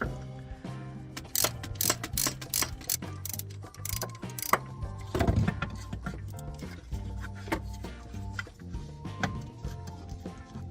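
A bolt is being worked on the alternator bracket of a 1988–91 Honda Civic, giving a busy series of metallic ratcheting clicks and clanks close to the microphone, with no talking.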